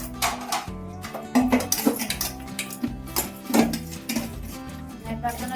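Dishes, pots and utensils being washed by hand in a home kitchen, with steady clinks and clatters of metal pans and cutlery, splashes, and irregular louder knocks, close up.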